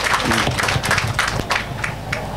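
Audience clapping at a public event in Tanzania, a broad wash of hand claps with a few sharper individual claps standing out, close and steady for the whole stretch with no voices over it.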